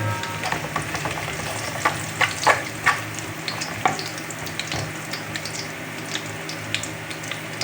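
Chicken liver and gizzard fry for adobo with a steady, close sizzle, while sharp scrapes and clinks of a spatula come through in the middle, and no talk.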